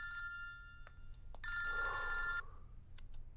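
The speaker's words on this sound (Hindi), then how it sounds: "फोन उठा, मेरा फोन उठा।" A telephone rings in short electronic bursts, a longer ring in the middle, fairly quiet with no talking.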